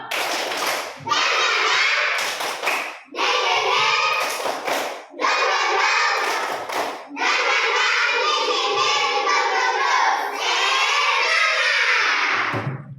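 Children in a classroom perform the 'tepuk semangat' group clapping game, chanting in unison between sharp, rhythmic bursts of hand claps, loud and close, with short pauses marking each section of the routine.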